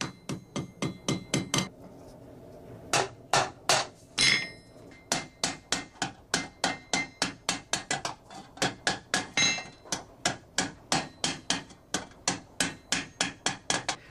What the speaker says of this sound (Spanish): lo encierra a golpe de martillo por la curvatura de la boca